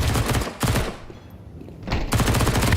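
Rapid pistol gunfire in a Counter-Strike match crackles in two loud bursts separated by a quieter pause with faint game sounds.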